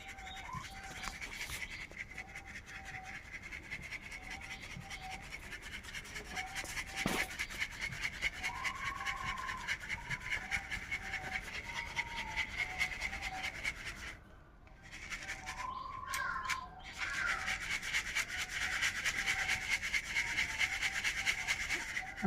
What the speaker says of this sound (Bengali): আটা চালনির সাহায্যে আমি চেলে নেব।